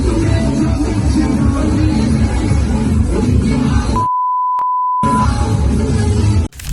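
A censor beep of about a second cuts in over a loud played-back clip of a news report, as a steady tone set between brief dropouts, with dense sound running on either side of it.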